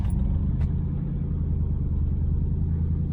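A Triumph Stag engine fitted with Stromberg CD175 carburettors idles steadily at about 1200 RPM, its low, even rumble close and continuous with no one speaking.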